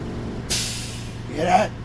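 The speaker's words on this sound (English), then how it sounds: "Inspector, my air governor is working." Two sharp bursts of hissing air from a school bus air brake governor cutting out, a short pause between them, over a low idling engine rumble.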